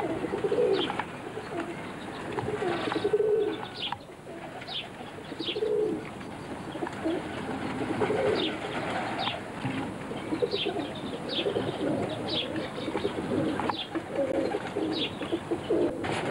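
Pigeons coo softly and repeatedly in a breeding loft and its connected flight, low rolling coos recurring throughout with a few faint chirps and wing flutters against a quiet background.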